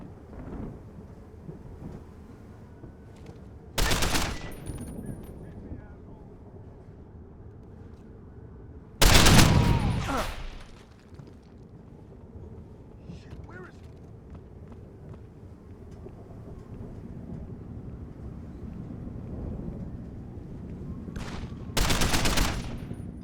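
Gunfire during an assault on a warehouse in the video game Deus Ex: Human Revolution, with three loud bursts at about 4, 9 and 22 seconds, the middle one the heaviest, over a low steady game ambience.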